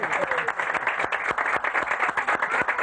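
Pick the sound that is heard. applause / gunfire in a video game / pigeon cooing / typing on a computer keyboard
applause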